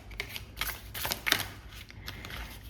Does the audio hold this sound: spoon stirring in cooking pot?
no